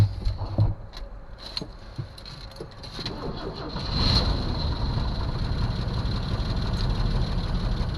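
After a few seconds of clicks and shuffling, a long-dormant Jeep Cherokee engine fires up and settles into a steady, rumbling idle that continues to the end.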